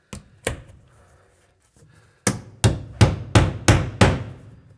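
A hammer drives a water filter mount into position: two early blows and a faint tap, then a steady run of five loud, close knocks with solid low thuds. No one speaks.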